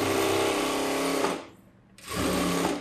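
An electric sewing machine stitches a boat neck blouse, a steady close whirring run that stops for about half a second and then starts again at the same pace.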